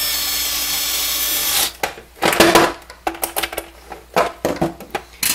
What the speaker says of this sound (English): Magnetic screwdriver, get you out a little bit.